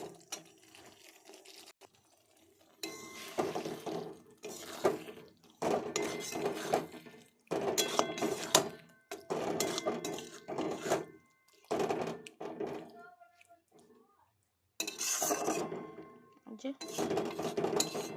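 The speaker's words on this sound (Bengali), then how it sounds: "এবার এর মধ্যে মাংসটা দিয়ে দেবো" Chicken pieces going into hot oil in a cooking pot, heard as repeated bursts of sizzling and clattering metal as the meat is dropped and moved, with short quiet gaps between.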